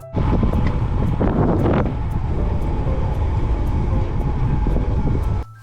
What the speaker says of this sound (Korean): 바람 보이시나요? 바람이 어마어마하게 불었습니다.